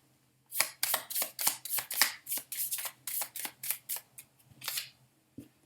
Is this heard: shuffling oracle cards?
yes